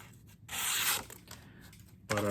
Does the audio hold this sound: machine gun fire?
no